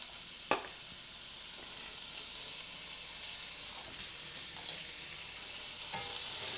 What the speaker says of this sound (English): To that, we are going to add our onions and we're going to caramelize these.